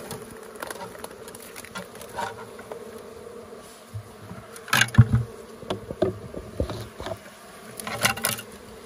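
Wild bees swarm and buzz around a wild hive while honey is extracted and smoke is applied, a steady insect drone close by with scattered patters and knocks as bees strike protective gear.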